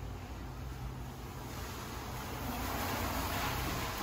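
WD-40 aerosol sprayed onto motorcycle wheels: a steady, close, fairly loud hiss that runs unbroken for about four seconds, with no voices.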